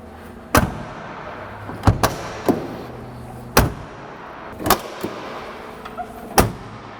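The doors of a Ford Fairmont Fox Body, still raised on its suspension in a garage, are opened and shut, giving roughly eight sharp metallic clunks spaced unevenly over a quiet background.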